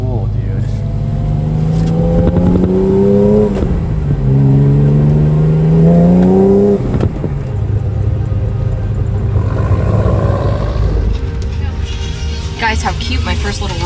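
Corvette and Honda NSX cruising together, engine revs climbing and dropping in two clear pulls followed by a steady rumble, close and loud, with people talking over it.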